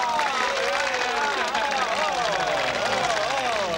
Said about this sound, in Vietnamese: Tôi chưa nói các vị đều vỗ tay rồi